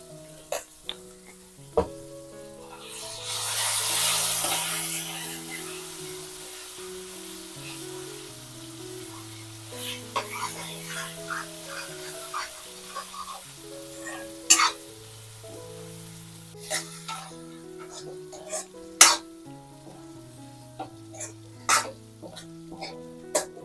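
Tempering sizzling and crackling in a hot pan for a village-style tomato and red chilli chutney, a loud hiss burst early then steady frying with sharp pops and stirring clinks throughout, no talk.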